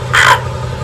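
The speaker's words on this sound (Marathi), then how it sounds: "आणि आम्ही कावळा पाळलाय." A pet crow gives a single loud, harsh caw close by, lasting a fraction of a second over a low steady background hum.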